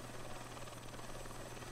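A steady helicopter rotor drone in a flight simulator video game, with a constant low hum, loud and unbroken, no voices.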